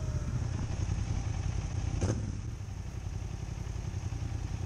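A motorcycle engine runs steadily at close range, a low continuous idle-like rumble with a brief clattering burst midway and no talking.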